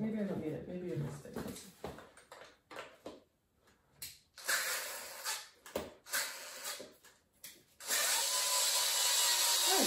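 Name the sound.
power drill driving screws on roller skate plate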